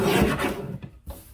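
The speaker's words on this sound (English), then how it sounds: "We will trim this horizontally at 10½" Paper trimmer blade sliding through a piece of cardstock, a short close rasping cut lasting about a second, fading and then ending with a soft click.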